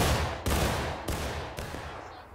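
Civil War musket volleys from line infantry in War of Rights, heard as three or four loud ragged crashes about half a second apart, each followed by a rolling echoing tail.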